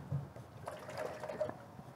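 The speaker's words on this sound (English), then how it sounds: "pour my gravy in, and then that can get cooking" Gravy poured into a pan for a chunky veg cottage pie makes soft, faint liquid splashing and trickling sounds over about two seconds, close by and with no talking.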